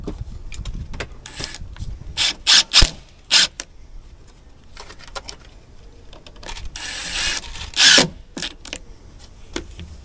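Screw being driven into a roof with a power driver: several short whirring bursts of varying length, close and fairly loud, separated by quieter clicks and handling noise.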